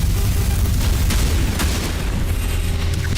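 Burst cannon weapon firing in a Godot-made video game, a sustained loud booming roar with rapid overlapping blasts and sharp pops throughout.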